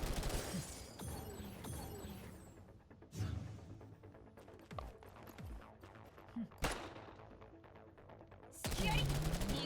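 Gunfire in the shooter game Girls' Frontline 2, with scattered bursts and sharp reports of moderate loudness, some rapid and some isolated, mixed with game effects and a voice talking at points.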